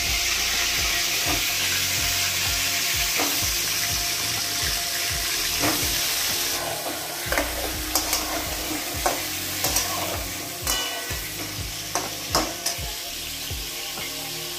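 Potatoes frying in hot oil in a pan give a steady close sizzle, broken by clinks and scrapes of stirring and a brief run of tap water.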